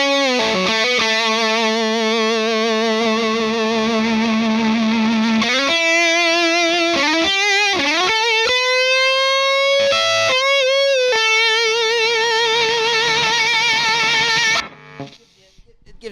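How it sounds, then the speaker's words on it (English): Electric guitar through a compressor pedal, loud and distorted, with long sustained notes and bends ringing continuously before cutting off abruptly near the end. "The compressor sounds like this."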